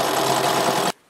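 A sewing machine with a quarter-inch foot stitches quilt binding in one fast, continuous burst of whirring, close and loud, then cuts off abruptly into silence.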